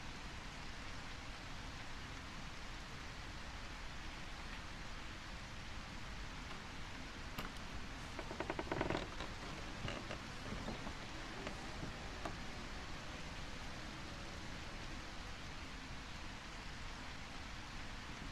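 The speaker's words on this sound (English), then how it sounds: "The rain helps me." Steady, faint rain hiss in the video game A Quiet Place: The Road Ahead, an even wash of noise throughout with a brief patter of clicks near the middle.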